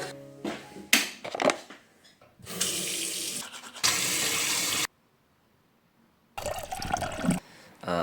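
Hot water gushes from a tap in bursts, loud and close, stopping for a silent pause of about a second and a half before running again.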